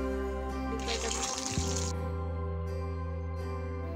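Stuffed masala potatoes drop into hot oil in a kadhai over a medium-high gas flame, setting off a loud, steady hissing sizzle that holds for several seconds before easing into a softer continuous bubbling.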